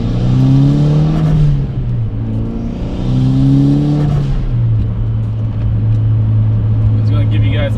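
A Mitsubishi Evo X engine pulls hard under acceleration, its loud rising drone climbing through two gear changes before settling into a steady high roar, heard from inside the car.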